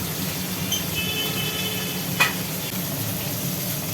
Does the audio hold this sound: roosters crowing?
no